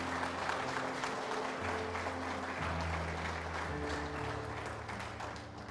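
A church congregation applauds with sustained, dense clapping throughout, while low steady tones from music or an organ play underneath.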